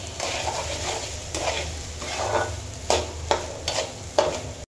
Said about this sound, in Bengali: চালটা ভালো করে জল ঝরিয়ে নিয়েছি, একদম ঝরঝরা হয়ে আসা পর্যন্ত ভেজে নেব